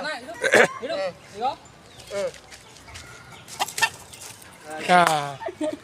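Roosters being readied for cockfighting cluck and call nearby in a quiet setting. There are several short bursts and one longer call near the end, with people speaking softly in between.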